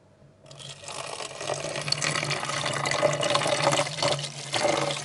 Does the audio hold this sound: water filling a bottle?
yes